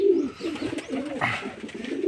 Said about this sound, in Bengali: আমার পায়রাগুলো সব কিন্তু ডাকাডাকি ঠিকঠাক করছে